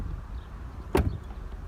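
A luxury sedan's smart-key door handle unlocks with one sharp, brief mechanical clunk of the lock actuator midway through, near and clear over a quiet background.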